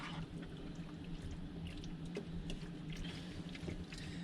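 Pasta stirred in a pot of water on the stove, a steady close liquid swishing and churning with occasional faint clicks of the utensil against the pot.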